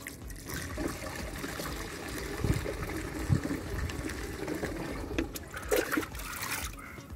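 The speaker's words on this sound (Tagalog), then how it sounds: "atin na uling lalagyan ng tubig" Water runs steadily into a sprayer tank being filled for a copper-based fungicide mix for chili plants, a continuous trickling gush at moderate volume with faint bumps of handling.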